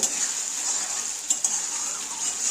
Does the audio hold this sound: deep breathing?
no